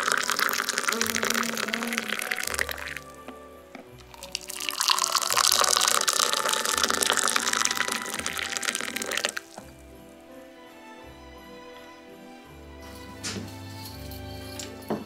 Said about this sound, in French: il faut laver les emporte-pièces tant que tout ça c'est frais